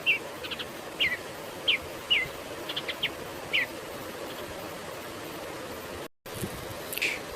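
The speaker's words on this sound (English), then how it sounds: "bluebird, bluebird means bluebird," Bluebird song as a string of short, high chirping notes spaced about a second apart, fairly faint against steady background hiss, with a brief dropout near the end.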